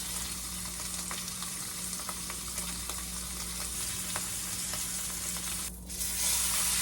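A steak cooking in butter in a pan gives a steady, close sizzle and crackle with scattered pops, continuing evenly and ending with a brief scrape.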